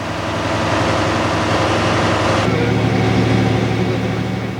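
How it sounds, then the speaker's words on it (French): Loud, steady diesel drone from an SNCF X2700 railcar engine, heard from inside the driver's cab, with the engine pitch stepping up partway through as it climbs in revs. "la cabine est assez bruyante lorsque les moteurs montent en régime, mais Guy est attentif au son du moteur"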